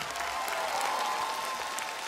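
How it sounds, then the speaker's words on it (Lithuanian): Audience applause at the final of a senior singing contest on Lithuanian TV, with steady dense clapping from a large crowd filling the whole stretch. "didžiausi aplodismentai"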